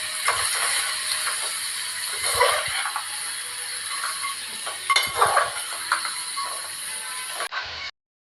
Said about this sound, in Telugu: ఇవన్నీ వేసుకొని మంచిగా కలుపుకోవాలి